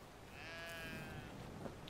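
A single soft sheep bleat rises and fades in Brothers: A Tale of Two Sons, faint and somewhat distant over low background ambience.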